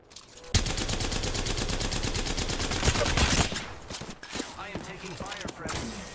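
Rapid automatic gunfire in the Apex Legends game on PS4, a loud sustained burst for about three seconds followed by scattered shots and effects, with players talking over it.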